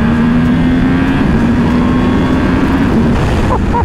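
A 2021 Yamaha R1M sport motorcycle roars steadily under the rider on dirty roads, a loud sustained engine note with wind rush, holding high revs before tapering slightly near the end.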